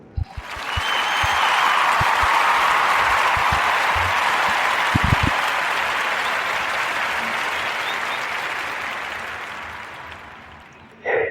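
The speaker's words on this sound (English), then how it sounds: "give a warm narrative podcast round of applause for Rhea Huntley and the contactless locker" A warm round of applause from an audience, building quickly after a few scattered claps into a dense, sustained roar of many hands, holding steady for several seconds before tapering off and stopping abruptly.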